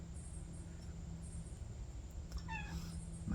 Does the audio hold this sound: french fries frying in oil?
no